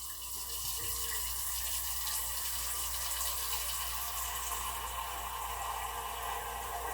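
Tap water pouring steadily into a container during a blackout, a continuous broadband rushing stream, close and fairly loud, with the pitch of the fill subtly rising as the vessel fills and no voices present.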